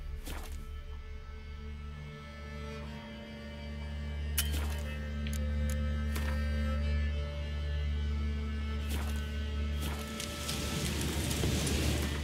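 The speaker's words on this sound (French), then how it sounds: "ça fait déjà beaucoup depuis un certain temps qu'il pleut." Rain falls steadily in the video game The Witcher 3, a soft continuous hiss beneath a strong low hum, punctuated by a few sharp knocks.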